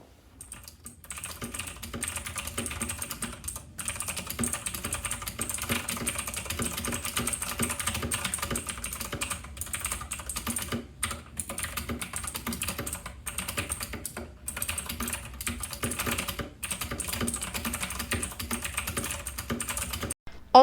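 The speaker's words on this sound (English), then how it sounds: "I know you guys all want to hear my very clicky keyboard" Steady, continuous clicky typing on a budget custom mechanical keyboard, close and fairly loud, with rapid keystrokes and brief pauses throughout, no voices.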